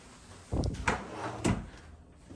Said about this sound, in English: that drawer's kind of stuck. Yeah, might have to fight the drawer a bit